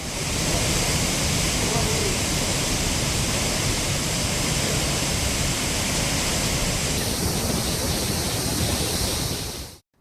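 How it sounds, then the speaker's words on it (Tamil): Flooded Courtallam waterfalls in Tenkasi district pour down after heavy rain, a loud, dense, unbroken roar of gushing water that fills the whole stretch before cutting off abruptly at the end. "தென்காசி மாவட்டத்தில் கொட்டி தீர்த்த கனமழையால் குற்றால அருவிகளில் வெள்ளப்பெருக்கு ஏற்பட்டுள்ளது."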